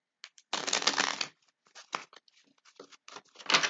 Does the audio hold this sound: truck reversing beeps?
no